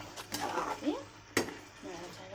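Fried prawns are stirred in a cooking pan, with metal utensil scrapes and clinks against the pan over a soft sizzle, close and fairly quiet.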